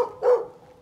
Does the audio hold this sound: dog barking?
yes